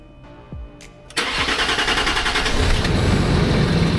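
A Land Rover LR3 with a long-cranking fuel pump fault makes its first start of the morning: a few ignition clicks, a brief crank, then the engine catches and settles into a loud, rough, rising idle.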